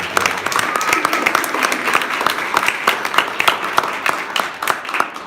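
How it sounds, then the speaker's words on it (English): An audience applauds loudly and continuously at a poetry month reception in the Paterson Museum, a dense wash of clapping with scattered voices mixed in. "Give a warm round of applause"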